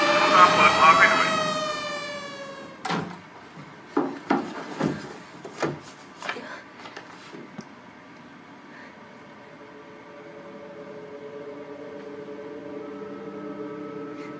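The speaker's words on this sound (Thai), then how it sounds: "ขณะนี้รถตำรวจกำลังมาแล้วตามเปิดทางให้หน่อย" A police car siren blares loudly with a steady harmonic wail for a couple of seconds, then gives way to a string of sharp knocking thumps and a low, steady hum.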